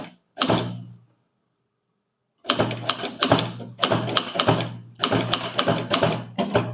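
Manual typewriter keys clacking in rapid bursts, with a short opening burst followed by a pause and then long stretches of fast, close typing. The typist is producing a Tamil statement. No speech is heard.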